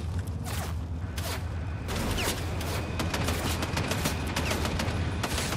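Enemy gunfire rattles continuously in a Fortnite match, dense overlapping shots and bursts close by, loud and unbroken for several seconds with no talk.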